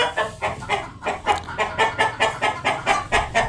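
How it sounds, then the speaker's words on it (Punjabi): Hens cluck in a steady, repeating rhythm after laying an egg, close and fairly loud, with several birds calling over one another and no talking. "ਇੱਧਰ ਮੁਰਗੀ ਨੇ ਹੁਣ ਆਂਡਾ ਦਿੱਤਾ ਵਾ ਤੇ ਸ਼ੋਰ ਪਾ ਰਹੇ ਆ"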